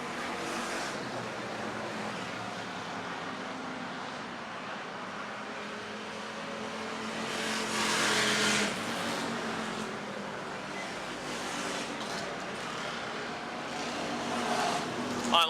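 Race cars roar around the Motordrome Speedway in an August 2006 8-cylinder event, a steady broad engine rumble swelling as the pack nears on the back straight, with no speech.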